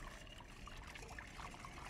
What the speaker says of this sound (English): what we're going to do is put 2 cups of boiling water in here